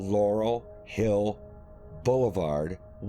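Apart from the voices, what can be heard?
None of the usual background noises is heard.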